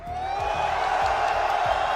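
A live crowd at a BLAST Open Lisbon playoff watch party for esports fans of teams like Na'Vi cheers and shouts in a steady, loud, dense roar that holds for the whole stretch.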